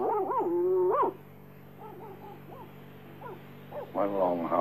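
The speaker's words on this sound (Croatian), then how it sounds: "Jedan dugačak lavež, dva kratka i jedno cviljenje." A cartoon dog in the 1961 animated Dalmatians film gives a long, loud howling bark, then quieter short yips and whimpers, ending in another strong whine, used as a signal message.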